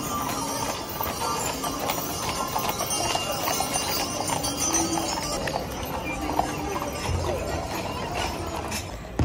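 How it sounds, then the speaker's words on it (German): Cold-blooded draft horses pull carriages at the Oktoberfest 2024 fairground in Munich, their hooves clip-clopping steadily amid a dense, noisy festival crowd with voices and background bustle throughout. "Etwas ganz Besonderes sind aber auch die Pferdekutschen mit den Kaltblüterrossen."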